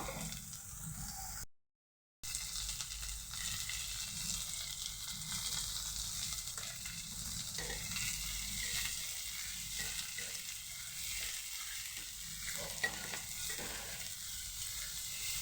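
Soybeans fry with salt in a pan, a steady bright sizzle with occasional stirring scrapes running continuously, close and moderately loud, with a brief gap near the start.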